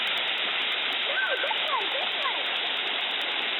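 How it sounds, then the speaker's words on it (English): Steady, broadband rush of a waterfall at a Mt. Tom State Reservation rock quarry, continuous and fairly loud across the clip, with faint voices in the background. "Nice waterfall."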